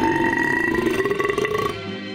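A long, loud, throaty burp lasting about two seconds, let out after drinking casalla liqueur with a sandwich. It comes up close and alone, with a gurgling pitch that slides slightly and then cuts off.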